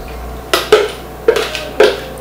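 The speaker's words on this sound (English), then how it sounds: "So I'm gonna pour all of my oils, combine them, and then we'll add our lye" Containers of soap-making oils clink and knock on a hard surface as the oils are poured and combined, with several sharp glassy taps spaced across a quiet room.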